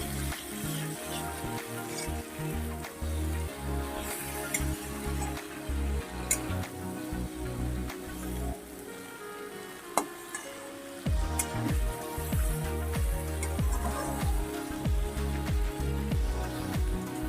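Okra and potatoes sautéing in a pan for a bhindi chorchori give off a soft, steady sizzle and crackle, faint beneath a backdrop of tonal music.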